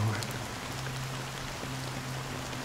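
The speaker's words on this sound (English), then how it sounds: "How long has this rain been ongoing?" Steady rain pours down in the Honkai Star Rail video game, a dense continuous hiss of falling drops with a low hum beneath, even and unbroken throughout.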